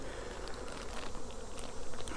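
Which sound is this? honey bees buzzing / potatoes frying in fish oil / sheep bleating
honey bees buzzing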